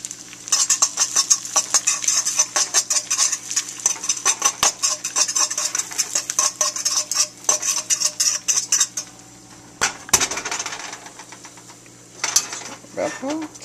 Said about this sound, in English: take a fork and scramble them